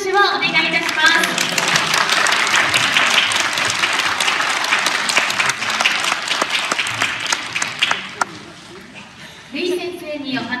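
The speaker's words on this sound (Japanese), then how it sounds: "会場を盛り上げてくれましたフォークギター入門の皆さんにもう一度大きな拍手をお願いいたします" Applause from a Christmas concert audience follows a beginners' folk guitar class performance, with dense, sustained clapping that thins out toward the end before a voice begins speaking.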